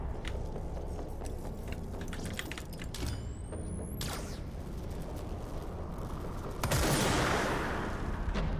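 Gunfire in the video game Control, bursts of rapid shots and mechanical clatter building to a loud, heavy blast near the end, no talking.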